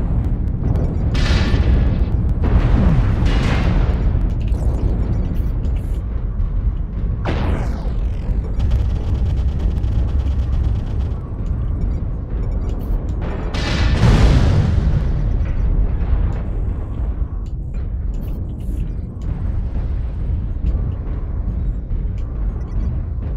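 Missiles exploding in the mech combat game MechWarrior Online: a run of heavy booming blasts and bursts over a constant loud battle rumble, with two especially strong impacts near the start and middle.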